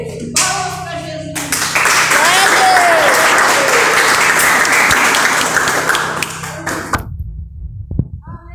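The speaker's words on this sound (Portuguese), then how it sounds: "Palmas para Jesus." A church congregation breaks into loud, sustained applause, many hands clapping together for several seconds before it stops abruptly, with a voice briefly heard over it.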